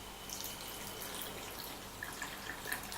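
Water poured from a tap into sugar to start a glaze syrup for a chocolate mirror glaze, a steady soft trickling hiss with a few faint drips near the end, heard alone up close.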